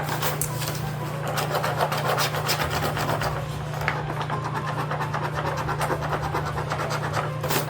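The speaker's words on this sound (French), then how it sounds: "j'aime ça les gratter comme il faut." Steady close-up rasping and rubbing of a coin scraping the coating off the numbers on a scratch-off Christmas advent calendar, continuous gritty strokes repeating throughout with no talking.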